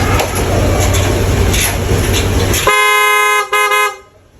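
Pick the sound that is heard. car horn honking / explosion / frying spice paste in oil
car horn honking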